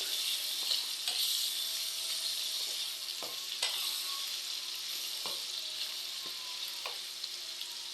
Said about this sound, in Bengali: তো ওই তেলের ভিতরেই আমি আর একটু তেল দিয়ে দিলাম পেঁয়াজ কাঁচামরিচ, এগুলো একটু ভাজা ভাজা হোক।